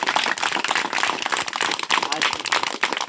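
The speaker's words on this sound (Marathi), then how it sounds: "त्यांचं आपण जोरदार टाळ्या वाजवून अभिनंदन करणार आहोत" A crowd at a farm visit honouring a progressive farmer breaks into loud, dense applause, a steady rush of overlapping claps that runs for about three seconds, with voices mixed in.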